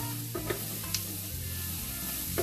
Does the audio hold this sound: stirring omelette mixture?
yes